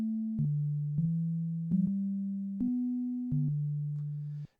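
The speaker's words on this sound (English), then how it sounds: "and as I mentioned before, a sine wave." Korg DW-8000 synthesizer playing a pure sine wave: a soft, hollow, low tone stepping through six sustained notes with small pitch changes, evenly spaced and alone.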